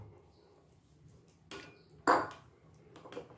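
Tamarind rice being stirred in a pot, quiet soft scraping followed by a few sharp metallic clinks of a spoon against the vessel, close and otherwise near silent.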